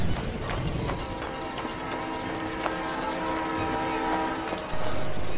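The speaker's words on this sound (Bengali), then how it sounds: "ওই তো একটা মনে হচ্ছে ট্রেন দাঁড়িয়ে আছে" A train waiting at a station, heard as a steady rumble and hiss with sustained tonal hum, faint clanks scattered throughout, and a louder burst near the end.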